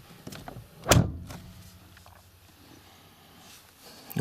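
Door of a 1997 Mercedes-Benz C220D W202 shutting with one solid, heavy thunk near the start, followed by quiet interior rustling and a faint click at the end.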